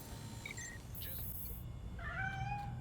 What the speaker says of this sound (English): You're telling me a cat managed to break through a world-class security system?